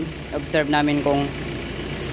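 A Ford Everest with a stalling fault idles steadily after being started, a low, even rumble running under a man's close speech.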